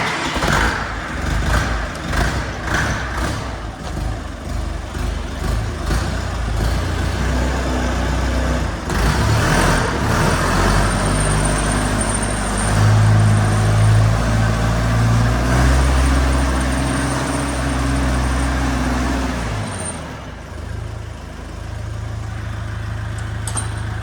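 A Dongfeng 404G2 minitractor from 2024 with forced hydraulics cranks and its diesel engine catches, then runs with a loud, steady low rumble that rises and settles in pitch before dropping to an even idle near the end.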